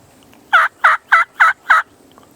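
A wild turkey in Florida gobbles five times in a quick, evenly spaced burst, loud and fairly close against a quiet outdoor background.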